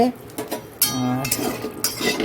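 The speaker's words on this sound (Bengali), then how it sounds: "আবার কড়াই বসিয়ে দিয়েছি এই পটল এনেছে পটলগুলো একটু ভাজবো" A metal wok set on a home stove to fry salted pointed gourd, with sharp clanks and clinks of cookware, close, amid speech.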